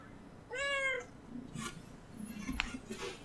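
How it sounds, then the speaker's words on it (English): A kitten gives one clear, rising meow, fairly quiet and close, followed by faint clicks and soft rustling noises. "Uh-oh, I hear a kitten."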